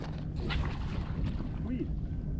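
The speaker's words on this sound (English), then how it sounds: "Wind." Wind gusts and buffets across a fishing boat out at sea, a steady, rough rumble filling the whole stretch with faint voices somewhere beneath it.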